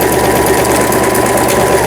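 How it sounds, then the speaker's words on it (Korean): A 2006 Toyota CB03K sewing machine runs after repair, a loud, steady rapid mechanical whir and clatter with fast even stitching rhythm, close up throughout. "도요타 재봉틀"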